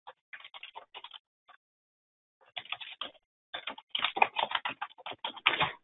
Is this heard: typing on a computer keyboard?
yes